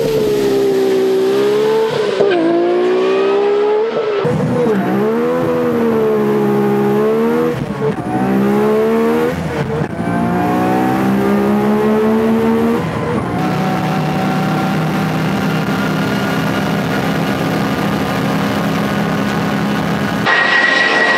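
An RB26-engined Nissan S13 accelerating hard on the Yatabe test track during a high-speed run, its engine screaming up through the revs with sharp drops at each gear change, then holding a sustained high-pitched roar.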